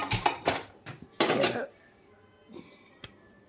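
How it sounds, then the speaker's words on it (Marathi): Several sharp metallic clanks and clatters as a heavy iron griddle is handled and set on a stove, then near silence with one last faint knock. "तर मी इथं तवा ठेवला गरम करायला"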